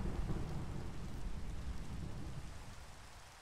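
Steady rain pours within a video game, with a low thunder rumble rolling beneath it; the wash of sound is broad and even and fades slightly toward the end, and no one speaks.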